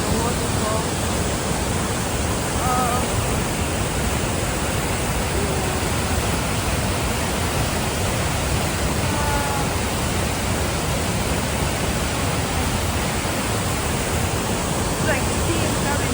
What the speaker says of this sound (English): Sound of the waterfall.